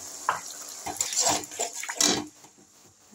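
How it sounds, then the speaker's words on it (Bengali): Water splashes into a hot pan of frying garlic and eggs, giving a few loud, hissing bursts of sizzle and spatter that fade to a lower bubbling by the end. "এর মধ্যে আমি এখন একটু জল দিয়ে দিলাম"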